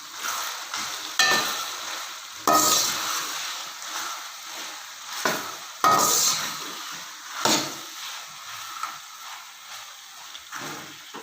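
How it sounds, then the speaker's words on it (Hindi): Mixed vegetables for pulao stirred and fried in a pan, with a faint background sizzle broken by several louder bursts of stirring and scraping at irregular intervals. "ये सारी सब्ज़ियाँ इसमें हम मिक्स करते हैं और इनको अच्छी तरह जो है वो फ्राई कर लेते हैं।"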